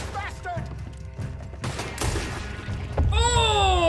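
Gunfire in Red Dead Redemption 2: several heavy shots and thuds in quick succession during a chaotic fight, with shouted voices mixed in and a rising whooshing tone at the end.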